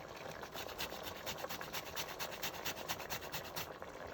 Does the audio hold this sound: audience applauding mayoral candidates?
no